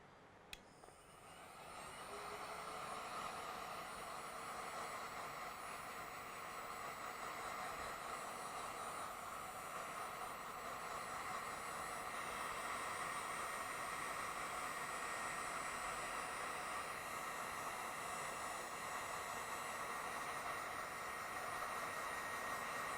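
A heat gun blows steadily over heat-shrink tubing on a paracord-sleeved wire, a constant airy hiss and hum that starts after a brief click and carries on unbroken.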